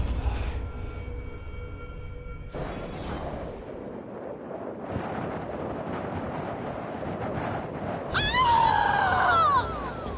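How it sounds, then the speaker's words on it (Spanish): Litharion, a female character in the Middle-earth: Shadow of Mordor video game, screams: a loud, wavering cry rises near the end over rough, windy rumbling and scattered impacts that fill the rest of the scene. "Ese grito era de Litharion."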